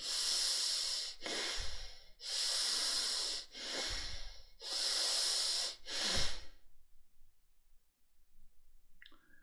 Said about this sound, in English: Longer breath, and you get a hissing sound.